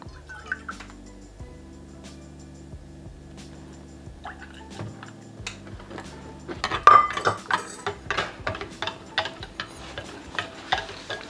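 Thick yogurt and eggs are stirred in a bowl for blueberry muffin batter, with a quiet start and then a run of quick, close clinks and taps of a utensil against the bowl.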